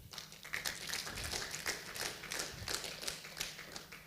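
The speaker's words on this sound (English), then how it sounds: "Just clap for David," An audience at an EdTech conference claps for someone named David: steady, fairly close applause of many hands lasting a few seconds, with no talking over it.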